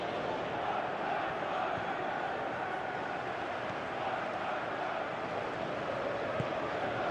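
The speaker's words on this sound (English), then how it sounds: "you can hear how the crowd are reacting to this too" Dense, continuous roar of a stadium crowd reacting in a football video game, a broad steady wash of massed voices with a few faint shouts rising out of it.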